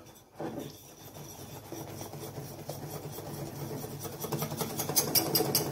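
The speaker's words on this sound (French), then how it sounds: "Vous rajoutez la farine. Vous mélangez bien." Flour is mixed into whipped egg batter for a cake, a close rhythmic rubbing and scraping of a mixer or whisk in the bowl that grows gradually louder and busier over several seconds, with no talking.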